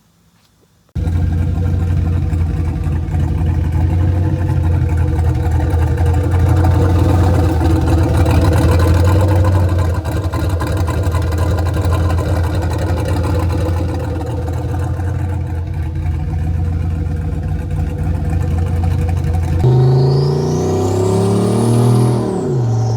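A turbocharged 1971 Chevrolet Impala engine fires up and runs with a deep, steady, rumbling idle close by, ending in a rising whistling spool of the turbo near the end; no voices.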